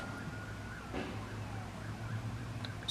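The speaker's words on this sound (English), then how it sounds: "Sorry about the interruption of the sirens" Faint police sirens wail in the distance, rising and falling over low background hum, with no voices.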